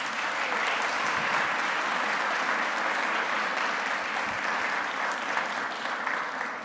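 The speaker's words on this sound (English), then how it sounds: "let's give them a round of applause" A concert audience applauds at a spring school concert, a dense, even wash of many hands clapping in a hall, sustained at moderate, slightly distant level.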